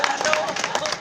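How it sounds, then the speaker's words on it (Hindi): An audience at a mushaira poetry gathering breaks into brief clapping, a short burst of scattered hands mixed with murmuring crowd voices. "एक बार जोरदार तालियों से उनका इस्तकबाल।"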